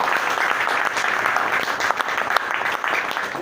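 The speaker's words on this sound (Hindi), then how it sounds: "जबरदस्त तालियां होंगी।" Applause from the audience at a business seminar fills the room, a continuous, fairly loud clatter of many hands clapping without a break.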